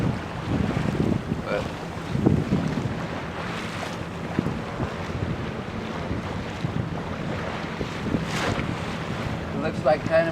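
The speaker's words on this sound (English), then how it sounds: "The wind's blowing up a little bit." Wind blows over a sailboat off South Seaside, Terminal Island, California at low tide, a broad rushing gust noise buffeting the microphone with water wash and hull sounds beneath, a brief spoken word near the start.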